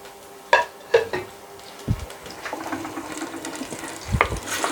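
Minced meat frying with browned onions in a pan, a low sizzle broken by several sharp clanks of a spoon against the pan and stirring scrapes, close and fairly loud.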